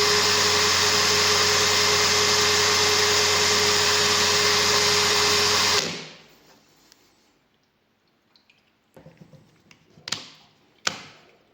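A Parkside PABS 20 Li G8 cordless drill with a 2 Ah battery spins freely with a steady, loud motor whine for about six seconds. It then stops abruptly, leaving near-silence broken by a few sharp clicks and taps.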